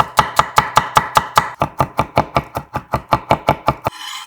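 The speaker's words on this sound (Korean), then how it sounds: "양념장은 통마늘 한 개 다져서" Kitchen knife mincing a whole garlic clove on a cutting board: a quick, even run of about twenty crisp chops, close and clear, ending with a brief scrape.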